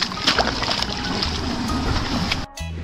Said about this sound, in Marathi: हेच पाणी आहे जे आपण खाली घेऊन गेलो आणि इथं आपला पाईप आहे